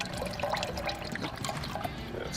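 Water pours steadily into a pot for a grits base, a continuous close splashing, gurgling rush with no talking over it.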